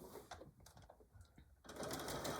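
Sewing machine back-stitching while making a tool carry bag: short stop-start bursts of rapid needle clatter, then a longer steady run, close and clear.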